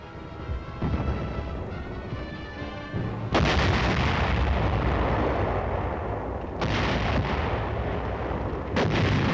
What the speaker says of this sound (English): artillery fire is called for to loosen enemy supporting areas